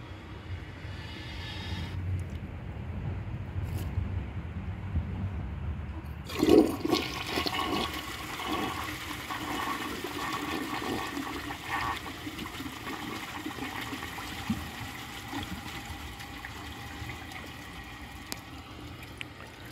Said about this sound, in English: I'm going to put this in right before I flush it